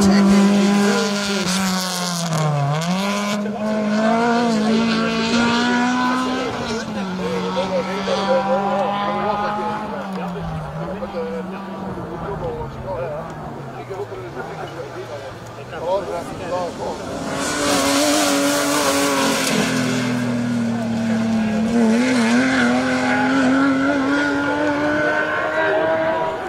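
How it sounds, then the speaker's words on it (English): A Honda Civic rally car with a VTEC engine screams along a special stage at Rally Wervik, revving high and shifting continuously, loud and close under a commentator's voice. "Lovely little VTEC engine."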